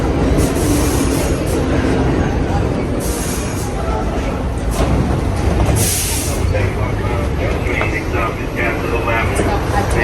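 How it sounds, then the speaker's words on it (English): A New York City 6 subway train leaves the station, rumbling loudly and continuously with rattling wheels and occasional squeals, close by and filling the whole stretch. "over there, the train is leaving that side"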